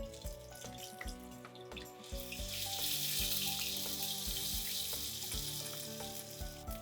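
Ginger, garlic and green chili paste drops into two spoons of hot oil. A loud, bright hiss swells after about two seconds and holds steady, with a few stirring knocks over a soft tonal background.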